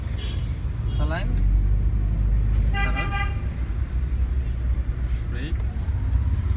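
A car horn sounds during a driving school lesson, with a short honk over constant engine and road rumble while people talk inside the car.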